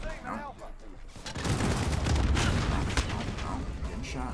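Dense gunfire and explosions fill a Call of Duty match. A sustained, loud barrage of shots and booms runs for several seconds, and a voice is heard talking briefly at the start.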